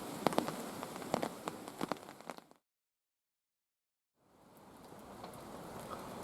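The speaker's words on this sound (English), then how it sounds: "Still raining." Rain pours steadily onto a wild camping tent, a soft hiss broken by sharp droplet taps, cutting to silence midway before the drumming returns more evenly.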